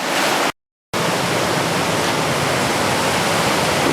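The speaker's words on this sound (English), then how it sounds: "Another thunderous waterfall here." A thunderous wilderness waterfall roars in a dense, unbroken rush close by. The sound cuts out for a brief moment early on, then the steady loud roar resumes and carries on to the end.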